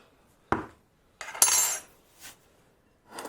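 A metal teaspoon measures bicarbonate soda into a mixing bowl for soda bread, giving a few separate clinks and scrapes against the bowl, close and fairly quiet, with no talk.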